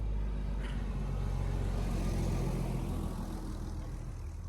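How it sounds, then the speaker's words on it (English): A big truck passes on a road, a heavy steady rumble of engine and tire roar that stays loud throughout and eases off slightly at the end. "there's a big truck coming. This will probably be noisy."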